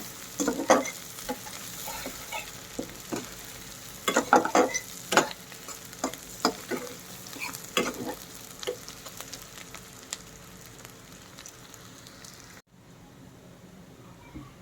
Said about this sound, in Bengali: এখন পেঁয়াজটা হালকা বাদামি করে ভেজে নেব।